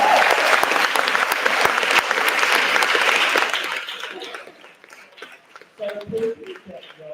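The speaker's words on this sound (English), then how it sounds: "can we have a huge round of applause to our referees today?" A crowd at a trans-led gym event applauds the referees with loud, dense clapping for several seconds that then fades out, followed by a short stretch of talk.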